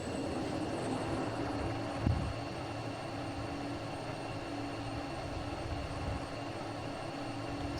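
Jet fuel starter of a jet fighter spinning up during a ramp start in the Falcon BMS flight simulator game, a steady broadband turbine whine and roar holding level throughout, with one brief thump early on.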